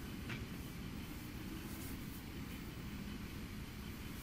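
A train runs in a railway video game, producing a steady, dense rumble with faint rhythmic clatter and no talking.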